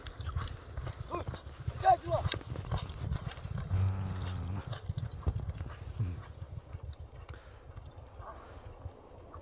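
Rapid drumming of two racing horses' galloping hooves under excited talking, with the pounding rhythm fading toward the end.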